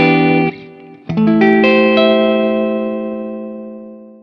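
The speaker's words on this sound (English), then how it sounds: "now that we've heard this guitar in action" Cheap $120 electric guitar through distortion, a loud driven chord ringing out, a quick re-strike near one second, then sustained chords decaying slowly under reverb with no voice.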